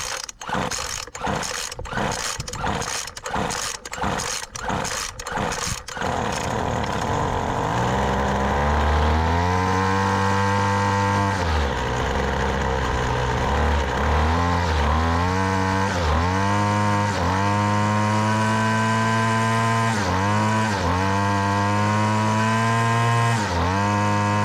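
A small engine is pulled over with the choke on: several rapid sputtering pulls, then it catches and runs loud and close, its revs rising and falling repeatedly in a raspy, chainsaw-like drone.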